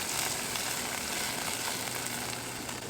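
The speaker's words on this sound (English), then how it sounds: "Listen to that sizzle, guys." Frozen okra, about seven or eight cut pods, sizzling in hot oil in a skillet while cooking in a van; a steady, close, continuous frying hiss with no talk.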